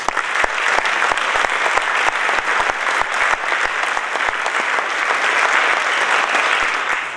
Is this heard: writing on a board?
no